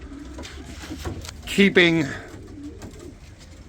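Pigeons cooing in an individual coop, a short burst of throaty coos in the middle, close and fairly loud over steady background noise, with someone talking around them.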